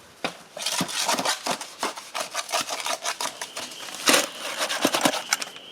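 Concrete mixed by hand in a wheelbarrow, with a tool scraping and rasping through the wet mix in quick, uneven strokes. The sound is close and fairly loud and goes on without speech.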